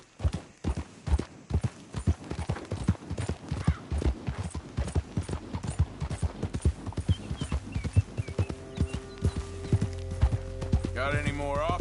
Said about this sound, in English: That horse has taken to you.